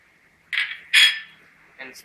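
A spatula stirring fried rice with salt in a pan, giving a few sharp metallic scrapes and clinks spaced apart over a faint steady background hiss.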